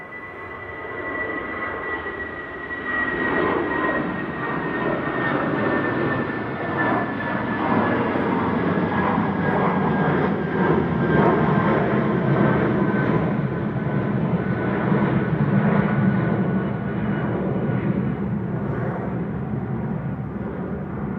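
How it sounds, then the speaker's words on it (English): A Eurowings jet airliner on flight 9345 to Düsseldorf departs Manchester Airport with a loud, sustained engine roar. A whining tone fades in over the roar, and the jet thunder holds strong for about twenty seconds before easing slightly. "Eurowings to Dusseldorf departing there, the AGWI operating flight 9345"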